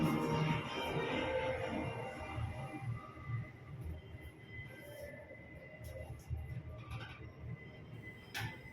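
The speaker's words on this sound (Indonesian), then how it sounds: "Lift kembali bergerak naik." A glass elevator moving up its shaft, with a low mechanical rumble and rattle, soft hum and a few light clicks and squeaks, fairly close and steady with no voices.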